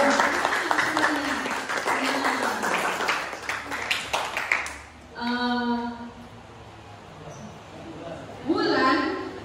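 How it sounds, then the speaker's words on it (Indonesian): Audience applause in a classroom-style session, dense clapping for about five seconds that cuts off, followed by a voice speaking alone. "tepuk tangan dulu"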